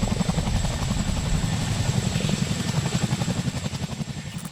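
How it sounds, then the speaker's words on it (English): A Boeing CH-47 Chinook tandem-rotor helicopter, the T408-engined NCH-47D testbed, flies with a loud, continuous rhythmic rotor thump over a steady turbine whine, holding close and strong throughout. "the first flight of the T408-equipped NCH-47D testbed helicopter"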